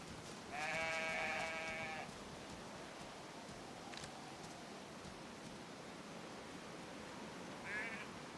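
Sheep in the Pacific Drive video game bleat, one long quavering bleat early on and a shorter one near the end, over a steady hiss of background noise.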